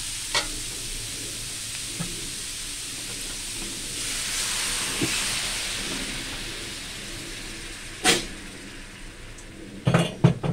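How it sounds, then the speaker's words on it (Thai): Minced pork stir-frying in a hot pan for Thai basil tofu with egg, a steady sizzle and hiss with a louder swell midway, broken by a few sharp clinks and scrapes of a utensil against the pan toward the end. "คั่วให้หมูสุกเลยนะทุกคน"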